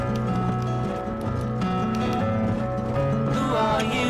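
A malnourished horse running in the video game Red Dead Redemption, steady clip-clop hoofbeats over a continuous music bed, with a brief whinny-like sweep near the end.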